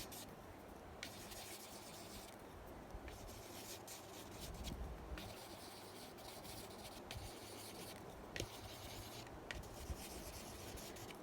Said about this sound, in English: I'm feeling drawn to use a yellow colored pencil here in a few places